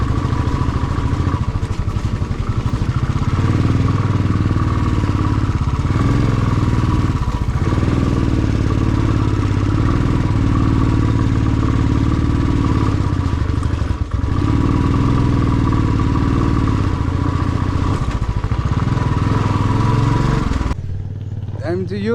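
A motorbike labours along a rough uphill road near Ghalegaun out of Pokhara, its engine droning steadily and close throughout with rattling clatter over the bumps, cutting off abruptly near the end; voices talk faintly beneath it.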